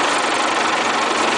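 A vehicle engine runs at a steady, fairly loud pitch for the whole short stretch, held under throttle while a driver eases off the clutch and accelerates, with no talk over it.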